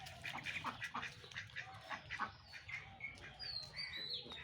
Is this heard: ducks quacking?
yes